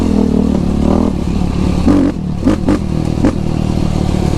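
A Yamaha YFZ sport quad engine revs hard on a winter group ride, a loud close roar with rising and falling throttle blips, clattering bursts and crackles, and no talking.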